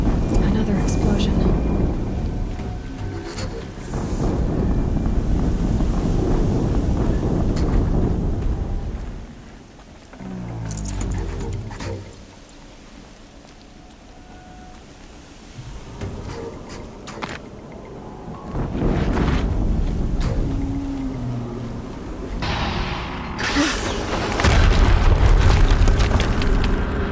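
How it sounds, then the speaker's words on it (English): Heavy explosions in the video game Horizon Zero Dawn, deep rumbling booms that swell and fade over long stretches, with quieter gaps and a loud burst near the end, mixed with game voices. "Another explosion."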